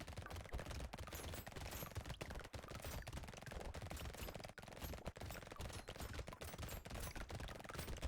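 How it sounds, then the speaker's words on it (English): SMGs blaze away nonstop in Brotato, a dense, unbroken clatter of rapid shots layered over game noise at a steady level throughout. "the joyous sounds of SMGs shooting things"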